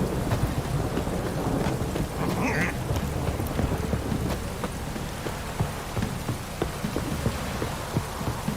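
Steady rain pours down with scattered drops and a low rumble like distant thunder, continuous and fairly loud, in the video game The Witcher 3: Wild Hunt.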